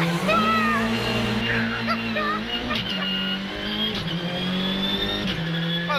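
A rally car at the Rallye du Var 2022 slides through a handbrake turn, its engine droning and shifting pitch with a skidding edge, under continuous excited commentary.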